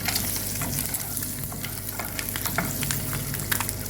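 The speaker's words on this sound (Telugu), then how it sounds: "ఇలా ఫ్రై చేసుకోవడం వల్ల గుడ్డు బాగా రుచి వస్తుందండి" Eggs fry with turmeric, salt and chili for egg biryani, giving a dense, continuous close sizzle with scattered crackles and stirring scrapes throughout, with no voices.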